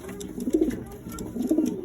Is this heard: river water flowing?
no